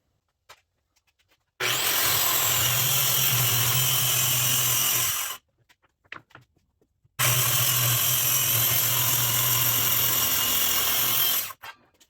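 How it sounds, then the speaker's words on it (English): A power saw rips through plywood resting on plastic sawhorses in a garage, two loud sustained cuts of about four seconds each, separated by a short pause with light handling knocks. "why not cut the plywood for all of them since you have the saw out"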